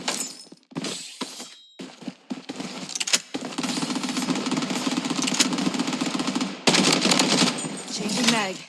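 Glock pistols fire in a video game as loud bursts of rapid gunshots, with short gaps between volleys and a few faint game voice lines.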